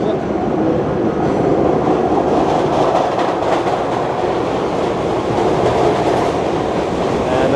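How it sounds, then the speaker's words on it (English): An NYC subway train pulls into a station on the Astoria line, a loud, steady roar of wheels on rails with rumbling clatter filling the platform, close and continuous without speech. "And the train's already here."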